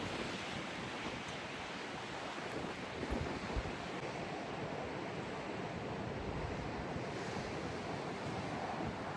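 Strong outdoor wind roars steadily into the microphone, a broad continuous rush with gusty buffeting and no pauses.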